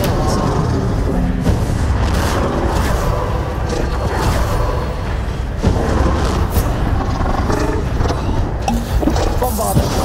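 Bombarda explosion spell blasts in the Hogwarts Legacy video game, several loud booms and crackling bursts repeating over a dense, continuous roar of spell combat, with a voice speaking at times.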